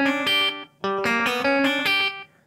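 Electric guitar playing a banjo-roll style lick in G, three quick rolling bursts of plucked notes with bright sustained harmonics and a short gap after the first, clean and close with no talking.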